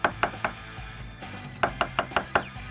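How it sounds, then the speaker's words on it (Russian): A knife chops mushrooms on a cutting board in quick sharp taps, three strokes, a pause, then a faster run of five, close and clear. "Пока лук и перец обжариваются, нарезаем грибы."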